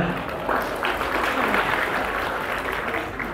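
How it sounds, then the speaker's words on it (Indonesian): Audience at a Unity in Diversity session in Batam applauding steadily, a dense sustained wash of clapping that holds at an even level throughout, with some murmuring mixed in. "Oke, kasih tepuk tangan dong ya."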